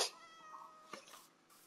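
Cat meowing in Minecraft, a single drawn-out meow heard close and clear, followed by a few faint soft noises and no talking.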